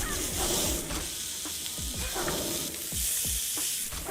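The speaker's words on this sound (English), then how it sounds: "they brought us a nice sizzling plate thing here to warm things up" A hot plate of meat sizzles in a video game tavern scene, a steady frying hiss with stirring-like crackles running continuously and moderately loud, with no talk.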